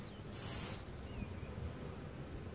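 Honeybees buzzing around an open hive at an apiary in spring, a steady diffuse drone with a brief louder swell of wings near the start and faint individual bees flitting past.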